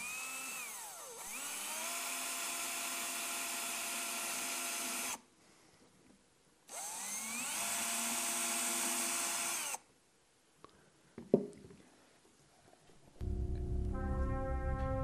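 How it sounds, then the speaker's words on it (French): A small drill bores two holes into the top of a skull in two steady, high-pitched whirring bursts separated by a pause, followed by a few faint clicks and a low hum. "Perçons délicatement 2 trous au sommet du crâne de Jasmine."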